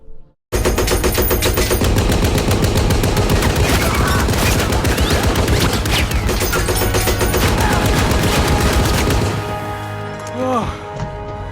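Sustained machine-gun fire rattles loudly through a World War II tank battle scene in the war film Fury, continuous bursts dominating for about nine seconds before easing off into quieter rumbling.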